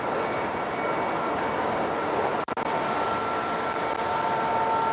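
A double sided edge banding machine line with double hogger squaring stations runs in a factory, giving a loud, steady industrial drone with a brief dropout midway and no talk.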